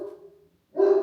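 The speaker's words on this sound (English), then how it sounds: "I swear he doesn't bark all day." A pet dog barks loudly in a short close burst after a moment of quiet, cutting in at a home kitchen during a talk about monthly dinner planning and grocery hauls.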